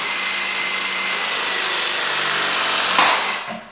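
A press tool clamping a 20mm multilayer pipe fitting, a loud steady motor whine that builds, peaks as the jaws close and then winds down.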